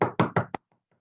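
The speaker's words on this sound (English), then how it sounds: "she heard a thump on the door." A knock on a door inside a home: three loud, closely spaced thumps and a sharper fourth rap, followed by two faint echoing taps fading into silence.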